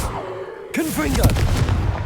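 A Confringo fire spell blasts in Hogwarts Legacy, a sudden loud whoosh and boom that rolls into a rumbling tail, cast from the ruins of an old castle, while a voice speaks over the blast.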